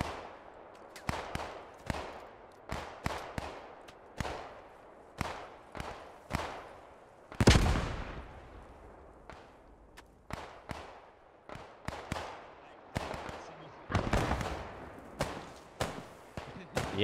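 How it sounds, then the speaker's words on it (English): Bren gun fire in the World War II shooter Post Scriptum, sharp single shots and short bursts at uneven intervals with echoing tails, one heavier blast midway, and quiet talk in between. "Ooh, some accurate Bren fire."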